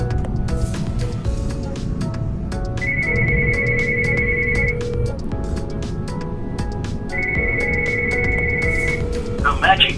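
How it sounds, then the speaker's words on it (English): A Samsung Galaxy Watch 7 Ultra LTE rings with an incoming call, giving two long steady electronic tones a few seconds apart while a person keeps talking over them. "it's ringing."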